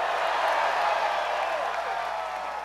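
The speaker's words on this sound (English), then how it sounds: "Let's give Dylan a round of applause." A rally crowd keeps up a dense, steady wash of applause and cheering that eases off slightly toward the end.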